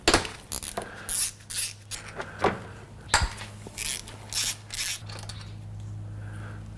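A ratchet works on 10mm fasteners down by the dipstick of a Honda J-series engine, giving bursts of quick clicking and metallic rattles in a quiet space, with no talking.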